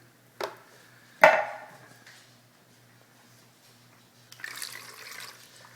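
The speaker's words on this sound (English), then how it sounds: "Then I've got the coconut milk. Just kind of pour that all in." Coconut milk is poured into a cooking pot: a couple of quick liquid splashes, then a longer soft glugging pour near the end, close and moderately quiet.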